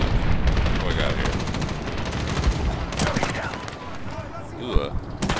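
Sustained automatic gunfire in the Medal of Honor 2010 video game, dense rattling bursts that thin out toward the end with a few sharp single shots, while voices talk over the firing.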